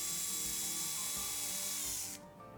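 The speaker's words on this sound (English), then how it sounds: "First I'm drilling pilot holes the same size as the nails." A close power drill whirs steadily, drilling pilot holes in wood, then spins down and stops near the end.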